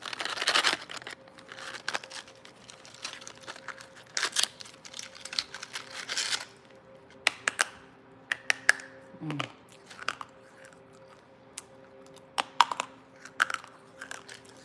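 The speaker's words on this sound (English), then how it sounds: "That's a good crunch." Close-up crunchy chewing on something brittle, with loud, irregular crackling bites and munching repeated over several seconds in a quiet room.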